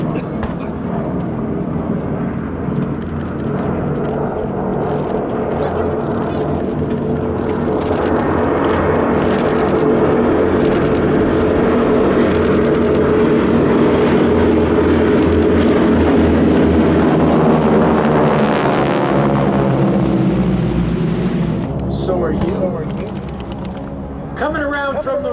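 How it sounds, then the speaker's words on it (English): A vintage WWII-era aircraft with an R1340 radial engine of about 600 horsepower flies overhead at an air show, a loud continuous rumbling drone that swells and then fades, with an announcer talking over it. "The sound you're listening to is the R1340 radial engine, generating about 600 horsepower"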